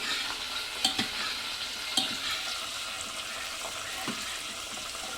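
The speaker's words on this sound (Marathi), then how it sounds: "त्याला तळून घेते मी त्याला" Garlic, curry leaves and cumin frying in hot oil for a dal tempering, a steady bright sizzle with a few sharp clinks of a spoon stirring in the pan, no voices.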